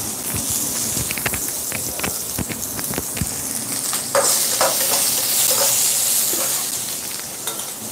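Sliced onion fries in a pan for a sundakkai kara kuzhambu, with a constant crackling sizzle and sharp clicks of a spoon scraping and stirring, close and fairly loud.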